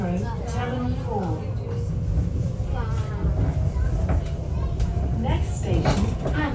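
An Elizabeth Line train runs from Canary Wharf toward Heathrow Terminal 4 with a steady rumbling roar of motors and wheels, rising whines and occasional clicks, while people talk and announcements sound faintly over the noise.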